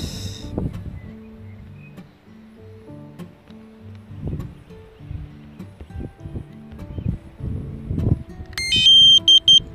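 A DJI Spark drone starting its return-to-home gives a short series of high, clear electronic beeps near the end, after quieter handling noises and low tones.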